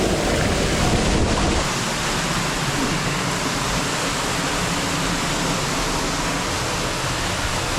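A waterfall in a river canyon in the Dévoluy area, a steady, loud broadband roar of rushing water that holds constant throughout, with no voices.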